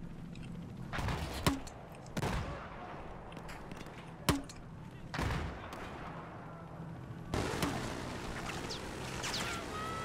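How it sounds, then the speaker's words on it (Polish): Gunfire from the Battlefield 4 video game on the Suez map, several sharp single shots spaced a few seconds apart, then a burst of rapid shooting over constant battlefield background noise. "Strzelam sobie do niego."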